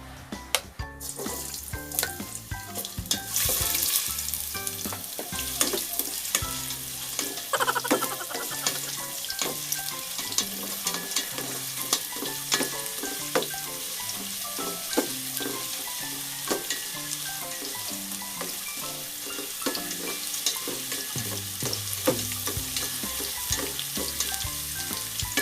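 Ginger sizzles in hot canola oil for a Filipino papaya and coconut milk dish, a continuous crackling fry with scattered stirring clicks and scrapes throughout.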